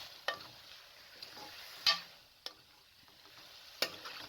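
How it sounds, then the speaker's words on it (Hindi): Potatoes and tinda are stir-fried in tomato masala in a pan, with quiet scattered clinks of a utensil and a soft, faint sizzle underneath and no voices. "दोनों चीज़ों को अच्छे तरीके से मिक्स करके 2 से 3 मिनट के लिए भून लें"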